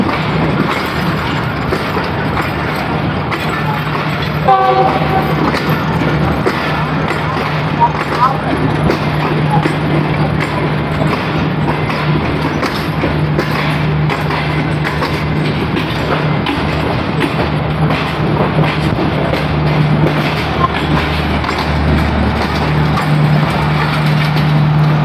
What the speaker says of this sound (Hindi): 4 प्लेटफार्म से निकली है जी पार्क विनस एक्सप्रेस